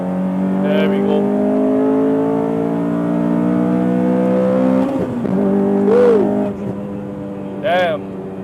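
Modified Honda Civic FD2R with a naturally aspirated 2.0 engine, running 245 tires up front, accelerating hard in third gear out of a corner on track; a loud, steady in-cabin engine drone climbs in pitch, with brief voices over it.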